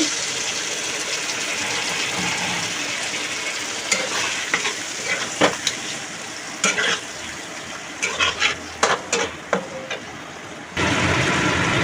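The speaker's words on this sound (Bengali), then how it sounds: "এগুলোকে একটু নেড়ে করে নেবো।" A spatula stirs pointed gourd mixture sizzling in a hot pan, with continuous frying hiss and repeated scraping strokes in short bursts, loud and close, ending in a steady sizzle.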